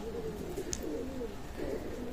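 A male pigeon coos softly at a pigeon loft, a few low rolling calls repeating at close range over a quiet background.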